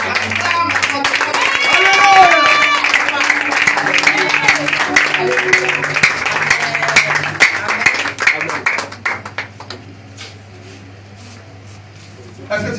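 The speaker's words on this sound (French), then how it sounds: "Acclame encore fortement de Jésus." A church congregation applauding and cheering in worship for Jesus, a loud dense wash of clapping and crowd voices that thins out toward the end.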